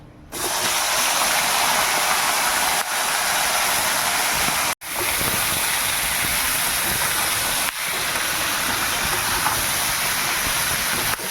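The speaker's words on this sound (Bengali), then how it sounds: "এবার আমি ঢ্যাঁড়স, কুমড়ো, তারপরে টমেটো আর এটা হচ্ছে আমড়া, এগুলো আমি দিয়ে দেবো তেলের মধ্যে" Okra, pumpkin, tomato and hog plum fry in hot oil, giving a loud, steady close hiss that cuts out briefly a few times before resuming.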